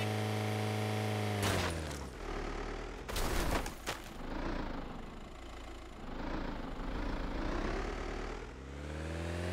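Gunfire crackles in a DayZ firefight on Taviana at night, a few sharp cracks cutting through a steady engine drone, with a tight cluster of shots loud and close before the hum carries on.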